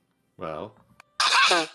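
A brief, forceful sneeze bursts out near the mic after a short spoken word, a sharp noisy explosion of breath lasting about half a second.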